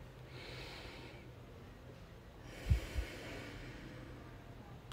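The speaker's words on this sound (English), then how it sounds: "Take a breath here." During a beginner yoga class, a deep breath is drawn and released with a soft airy rush, followed by a short nasal snort-like exhale, all quiet and close.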